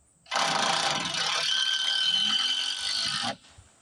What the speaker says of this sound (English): You want to screw that in.